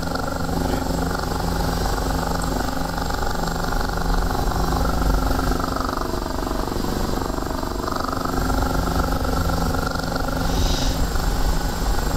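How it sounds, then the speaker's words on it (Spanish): Steady, continuous rotor and turbine drone of an OH-58D Kiowa scout helicopter in flight in the DCS combat flight simulator, a constant engine hum filling the whole stretch with no talk over it. "Hay que hacer puntería con el helicóptero,"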